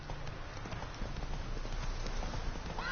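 Roach, Geralt's horse in The Witcher 3, gallops with a quick, rolling beat of hoofbeats, soft and muffled at moderate distance, running continuously for a few seconds.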